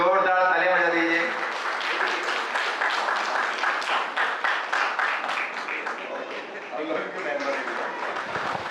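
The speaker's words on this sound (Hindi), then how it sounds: "इनके स्वागत में जोरदार तालियां बजा दीजिए।" Audience applause welcoming a chief engineer to a cyber crime awareness workshop, dense rapid clapping from a crowd that starts just as a voice finishes speaking and carries on steadily for several seconds.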